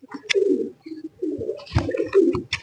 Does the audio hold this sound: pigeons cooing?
yes